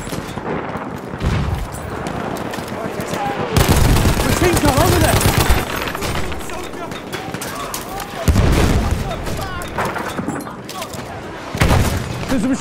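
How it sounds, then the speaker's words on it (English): Machine gun fire rattles out in long bursts amid booming blasts on a battlefield, loud and close with heavy thuds recurring throughout, while voices shout over the shooting. "There's a machine gun."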